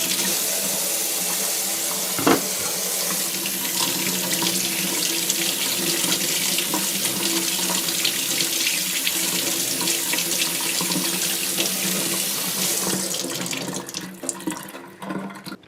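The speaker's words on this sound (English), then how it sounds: "the first thing we're gonna wash our cucumbers here" Tap water runs steadily into a sink while cucumbers are washed under it, a constant close splashing rush with one brief clunk partway through, easing off toward the end.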